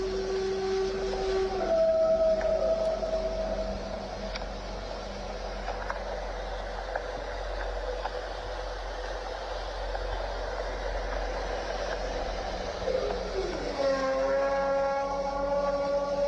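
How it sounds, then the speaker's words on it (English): A wavering, eerie Siren Head siren-like wail rises and falls over a steady low rumble, with distorted tonal cries sliding in pitch near the start and end. "Oh, that's siren head audio,"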